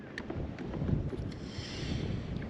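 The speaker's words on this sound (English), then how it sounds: "That wind, boy, is hauling now." Strong wind gusting over a lake, buffeting the microphone with a dense low rumble while fishing from a boat, steady and loud with no talking.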